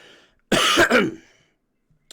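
A single loud, close cough lasting about half a second, with a faint tail after it; otherwise near silence.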